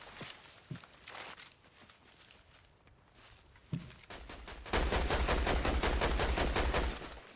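Rapid gunfire from a Fortnite-style no-build duo match: a few sharp isolated shots early, then a long dense burst of continuous automatic fire that fills the last few seconds and cuts off abruptly, with no talk over it.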